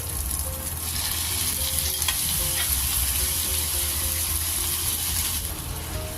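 Canned Pure Foods corned beef sautes in a pan with a loud, continuous frying sizzle, steady and close, alongside faint stirring clicks and a high constant whine in the background.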